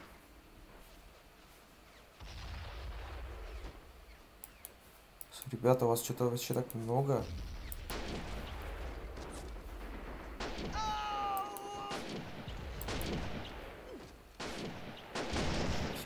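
Artillery and gunfire from the WWII strategy game Men of War: Assault Squad 2, heavy booms and bursts of shots rolling through the battle with loud blasts in the middle, while someone talks over the combat.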